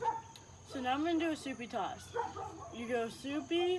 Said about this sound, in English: that's my neighbor's dog barking